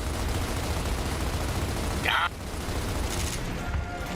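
Sustained automatic gunfire in the Gears of War game, a dense continuous rattle of bursts with a brief sharper blast midway, loud and steady throughout, no talk over it.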